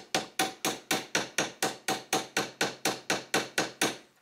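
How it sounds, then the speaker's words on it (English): A hammer strikes a screwdriver to drive it into the wooden pieces of a Ugears mechanical safe kit, about fourteen crisp, evenly spaced taps, close and alone. "whack it a little bit with a hammer"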